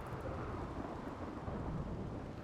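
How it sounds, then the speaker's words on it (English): A video-game thunderstorm roars as dense, steady rain with deep rumbling thunder underneath, a constant broadband wash at moderate volume with no voices. "it's a rainy thunderstorm, so the rain should put them out immediately"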